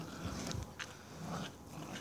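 Dogs whimper and whine in short, uneven bursts, fairly close, with soft rustling and snuffling in between and no talking.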